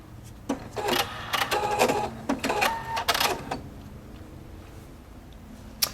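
A Husqvarna Viking Opal 690Q sewing machine runs short bursts of rapid needle stitching to tie off a lock stitch, several quick mechanical rattles in the first few seconds, then a quiet hum.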